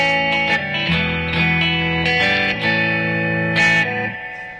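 Bright, crisp electric guitar chords and single notes ring through a Peavey ValveKing 112 amplifier with its bright switch on, played clean with a few strums and sustained tones.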